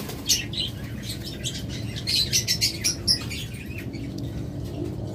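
Pet lovebirds and cockatiels for sale chirp in a run of bright, close tweets, one early burst and then a quick cluster of calls in the middle, over a steady low background rumble.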